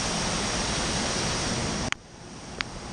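Steady broadband rush of water draining from a BAC cooling tower, loud and continuous, then dropping abruptly partway through to a quieter trickle with a couple of sharp knocks.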